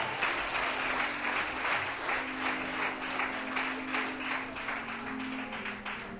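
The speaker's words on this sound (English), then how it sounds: "one more round of applause for Dr. Bridgette Baldwin" A lecture audience gives steady, continuous applause for a speaker at a university lecture series, even and fairly distant, filling the whole stretch without talk.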